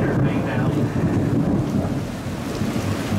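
Heavy thunder rumbling through a thunderstorm on an open safari ride in the savannah, loud and continuous with rain hiss and wind, close and enveloping, no voices clearly heard.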